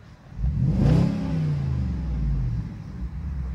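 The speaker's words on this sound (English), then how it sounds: "I will point out the car is already warm, so that's why I'm revving it like that." A warm BMW 645Ci V8 engine in a 6 Series convertible revs once sharply, rising to a throaty peak and then settling into a deep, steady rumble close by.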